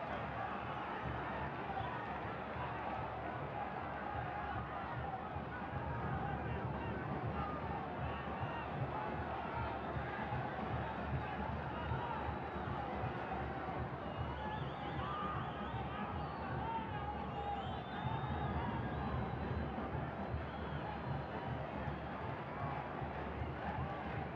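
A steady roar of a stadium crowd at a Real Estelí football match fills the air, continuous and even, with faint scattered shouts blending into the dense background babble.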